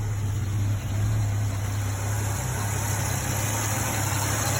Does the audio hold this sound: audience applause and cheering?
no